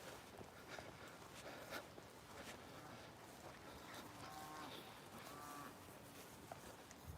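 Cows mooing outdoors during a countryside walk with a puppy, a few drawn-out lowing calls mid-distance over steady wind and ambient noise, with light footsteps.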